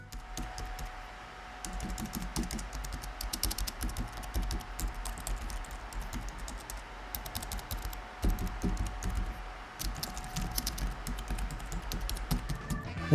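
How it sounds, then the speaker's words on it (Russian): Quick, steady typing on a Harper KBT-500, a compact wireless membrane keyboard, gives a close, crisp run of light clicks with brief pauses between bursts; no one talks. "Впечатление от набора текста и печатания тоже очень хорошее,"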